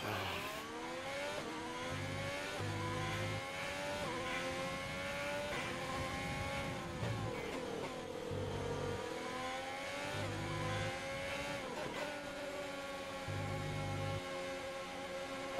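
Formula 1 race cars in a racing video game at a Spanish circuit, engines whining and rising and falling through the gears in a continuous layered roar as several cars run together, loud and sustained.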